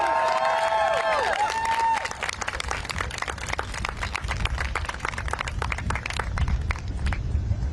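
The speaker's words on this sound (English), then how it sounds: "Another round of applause for that speaker, everybody." A crowd at a Howard University student gathering breaks into loud applause and cheering for a speaker, dense rapid clapping that lasts throughout, with shouting voices at the start.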